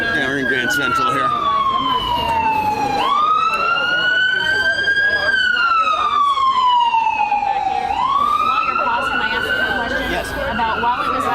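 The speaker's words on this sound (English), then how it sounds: "This ambulance is going to come right by us." An ambulance siren near Grand Central wails in slow rising and falling sweeps, loud and close as it passes by on the street, with traffic rumble and voices talking beneath it.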